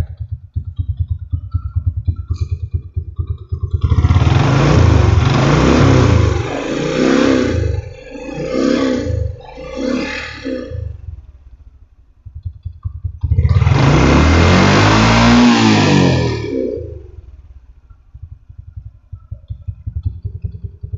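A motorcycle engine with a clogged breather hose and an oil leak revs up twice, roaring loudly for several seconds each time, with a steady idle rumble between and after the bursts.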